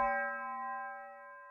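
A dry tubular bell with no reverb or effects, struck once in a music production session, rings as a bright sustained metallic tone that slowly fades, heard alone.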